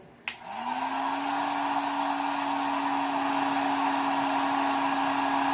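A heat gun warming PVC slingbow forks to straighten them: a click, then a steady blowing whoosh with a rising and settling motor whine, close and continuous, no voices.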